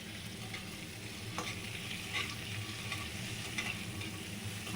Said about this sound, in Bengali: ডিমগুলো একটু হালকা করে ভেজে নেব আগে